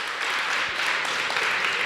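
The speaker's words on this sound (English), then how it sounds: "So please give all the students presenters a warm round of applause." Applause for student presenters at a faculty research day, a steady hiss of many hands clapping in a hall, even and moderately loud throughout with no voices.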